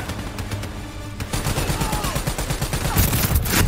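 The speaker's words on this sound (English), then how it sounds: "Who the fuck is shooting at us?" Rapid bursts of automatic gunfire in the video game Call of Duty Black Ops 3, dense and loud, intensifying partway through into sustained fusillade with a faint voice underneath.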